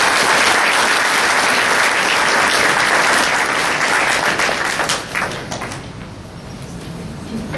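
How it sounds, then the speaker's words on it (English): Dense, steady applause from an audience at a police department awards ceremony, loud and continuous before thinning out toward the end. "Let's give them a round of applause."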